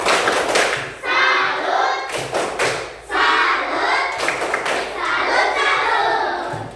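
A school group audience gives several loud bursts of rhythmic clapping in quick succession, dense and close, with short pauses between rounds and faint voices underneath.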